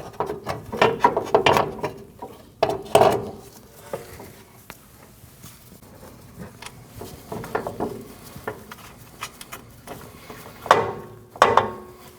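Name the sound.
tightening strut top mount nuts on Nissan NV2500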